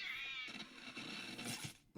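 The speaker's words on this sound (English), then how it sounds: "Ah, cat." A cat lets out a single drawn-out meow at the start, fairly faint, followed by quieter rustling and background sound.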